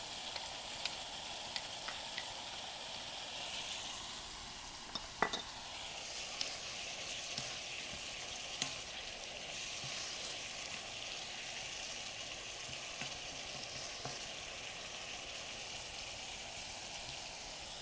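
Cut tomatoes sizzle and fry in a pan for a noodle dish, a steady close hiss broken by occasional faint clicks and scrapes of stirring, with no talk.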